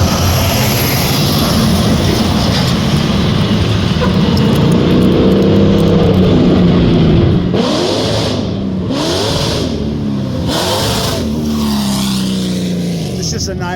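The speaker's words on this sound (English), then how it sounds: "So we're trying to do some wheelies on the street" A 600+ hp sand car revs hard on a street, its engine roaring loudly and continuously, with repeated surging bursts and tire-spinning wheelie attempts toward the end; people talk underneath.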